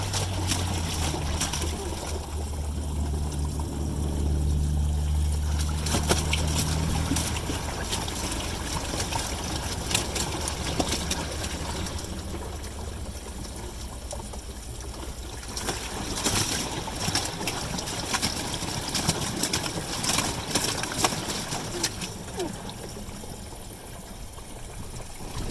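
Water pouring and trickling into a Maytag Neptune MAH5500BWW front-loading washing machine as it fills, a steady splashing rush with a low hum early on and a few louder gushes.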